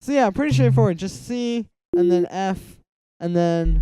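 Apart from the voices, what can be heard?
No everyday noises stand out.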